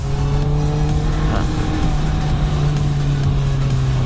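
A 650R motorcycle on the road, its engine droning loud and steady with a smooth rising pitch as it accelerates, under constant wind rush and no voices.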